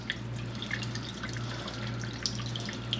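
Liquid drains from the tank of an abandoned Subaru outdoors in the snow, a continuous watery trickle with scattered bright drips over a low steady hum.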